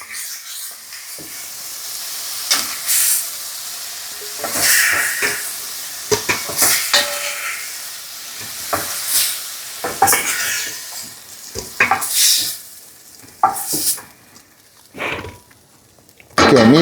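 Meat browning in a hot pan for a hunter's stew, a close loud sizzle and hiss broken by repeated scraping stirs and utensil knocks against the pan in an uneven rhythm.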